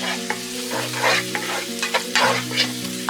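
Spices for a beef liver kaleji masala fry and sizzle in a pan over medium heat, with a spoon scraping and stirring in repeated strokes through a steady hiss.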